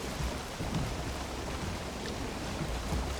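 Steady rain falls at sea in the Valheim game world, a dense continuous hiss of drops with low rumbling underneath, holding at an even level throughout with no voices.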